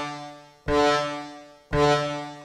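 Two loud, sustained string-patch hits fired from a pad on an MPC Live 2 sampler at D2, each a rich harmonic chord that swells in and slowly decays before the next trigger, heard alone.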